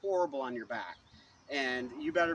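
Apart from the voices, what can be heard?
No everyday noise stands out behind the speech.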